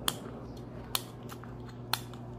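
Sharp, faint clicks repeat about once a second over a steady low motor hum, like a ceiling fan ticking as it turns.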